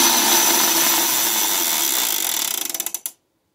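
An electric blasting machine's plunger is pushed down, giving a loud rising mechanical whir that spins down into rapid clicks and then stops abruptly.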